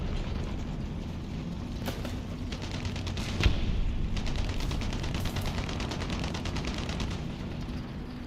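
Machine gun fire in the tank combat video game War Thunder, sustained rattling bursts with short gaps over a dense rumbling engine and battle background, moderately loud with no talk.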